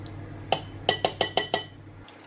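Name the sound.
whisk clinking against a bowl while mixing batter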